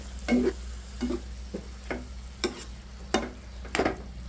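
Taro and small fish curry with added salt stirred in a pot, soft sizzling under a series of separate scraping and knocking stirs spaced about half a second apart, close and fairly quiet.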